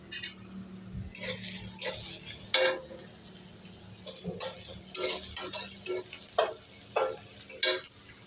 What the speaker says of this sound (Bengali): একটুখানি মশলাটাকে ভেজে নেব